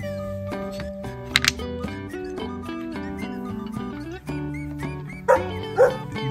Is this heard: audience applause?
no